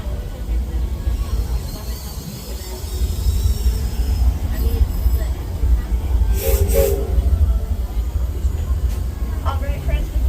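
A Disneyland Railroad steam train pulls away from the station toward Main Street USA with a continuous low rumble and rolling clatter, brief hissing bursts, and a faint whistle near the end.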